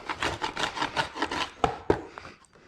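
Scraper rasping wax moth damage off wooden beehive frames, a run of rhythmic scrapes followed by two sharper knocks, close and fairly quiet.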